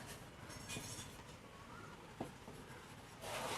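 A formula being written on a board during a geometry lesson on radians, faint scratchy strokes and a soft tap, quiet and close with no speech.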